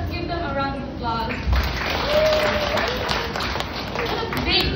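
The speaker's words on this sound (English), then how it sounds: "Let's give them a round of applause." An audience at a kindergarten graduation ceremony gives a steady round of applause that holds at an even level, with voices and crowd murmur mixed through it.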